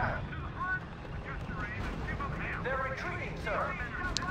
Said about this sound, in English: It's an anti-tank gun.